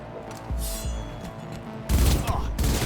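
Gunfire in the shooter game Cyberpunk 2077 comes in two bursts of rapid shots, the second louder and denser, over faint game background.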